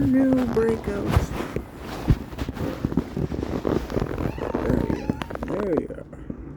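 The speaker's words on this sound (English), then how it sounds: "It's the kitty" A pet cat meows indoors at home, several short meows mixed with soft footsteps and shuffling, close by, with a person's voice talking over parts of it.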